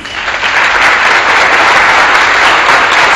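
An audience claps steadily, a dense burst of applause that swells within the first half second and then stays loud and even to the end.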